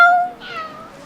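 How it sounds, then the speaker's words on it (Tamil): A cat gives a short, clear meow up close, a single drawn-out call with a faint second tone trailing after it. "இங்கே ஒரு பூனை சத்தம் போடுது"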